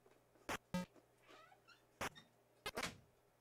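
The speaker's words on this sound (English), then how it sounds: "That's our cat closing the door" A house cat bumps and pushes a door shut indoors: several sharp thumps and knocks spaced across a few seconds, with faint creaks and a soft meow-like sound between them.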